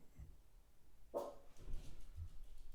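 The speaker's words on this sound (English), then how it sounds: "me let my dog out" A single dog barks once, short and sharp, in a quiet indoor room, followed by faint shuffling and low background noise.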